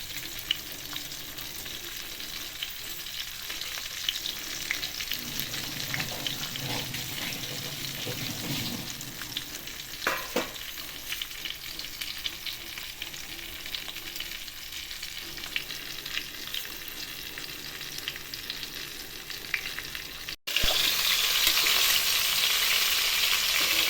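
Fish sizzles steadily in hot oil in a pan for Thai-style crispy fish, a continuous close frying hiss with scattered pops that jumps abruptly louder near the end.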